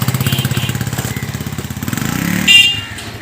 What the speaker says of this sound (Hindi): बस में उठाने के लिए जा रहे हैं मोटरसाइकिल पे